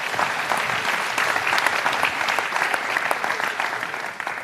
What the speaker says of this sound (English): So I want to ask you to please applaud your neighbor